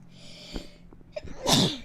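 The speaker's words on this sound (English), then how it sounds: "I didn't see it because I sneezed." One close, loud sneeze with a soft build-up of breathy intakes and then a sharp explosive burst near the end.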